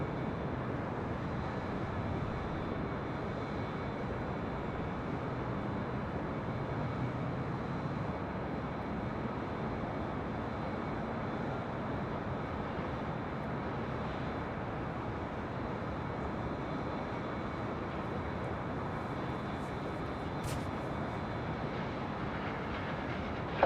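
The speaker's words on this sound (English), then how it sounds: "That was United Express flight 4652 coming in from Aspen, Colorado. It's a CRJ 700ER." A United Express CRJ 700ER regional jet lands at LAX, arriving from Aspen, Colorado, as a steady, broad engine roar that stays loud and constant for over twenty seconds, with no talk.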